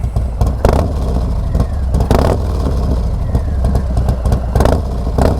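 A Harley-Davidson Street Bob with a 114 engine, S&S 475 cam and Cobra El Diablo 2-1 exhaust rumbles loudly at close range, its deep lumpy idle broken by several sharp throttle blips.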